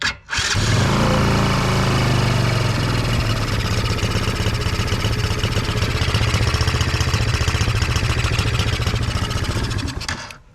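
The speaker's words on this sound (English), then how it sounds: "Let's listen to the Mini Commander first, which to me sounds like a standard ATV." Kayo Mini Commander ATV engine cranks and catches almost at once, then settles into a steady, loud, close idle with an even buzzing rumble that holds for about ten seconds before cutting off.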